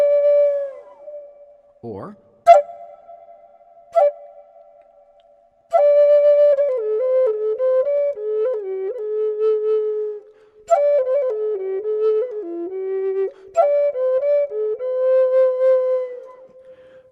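A breathy wooden Native American flute plays a melody, with quick grace-note flicks leading into the higher octave notes, separated by brief pauses; a voice speaks briefly at the start.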